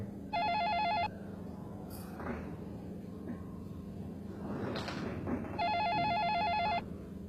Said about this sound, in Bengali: কি ফোন বাজতেছে, ফোন ধরো না কেন?